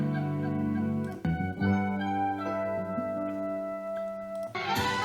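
A song, a demo track, plays as sustained melodic music with layered harmonic tones, shifting chords and brief dips in level, heard alone without talking.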